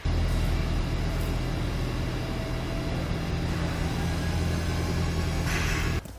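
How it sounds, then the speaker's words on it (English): A 2020 Hyundai fitted with Konig tire chains creeps forward a short way, giving a steady low engine and road rumble close by, ending abruptly as it stops. "we're going to drive forward just a little bit and get that checked out"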